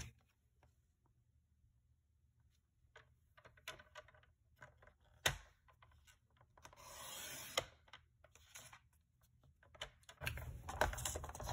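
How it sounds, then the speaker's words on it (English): Cardstock being cut on a paper trimmer while crafting a pop-up card: quiet, soft scraping and sliding strokes with a few taps and clicks, closer and louder toward the end. "I'm going to cut it at 2 inches"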